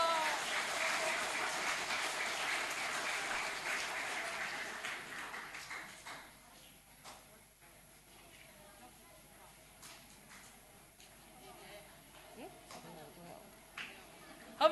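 An audience at a competition ceremony claps, loud and sustained at first, then thinning to scattered claps and fading under low background chatter.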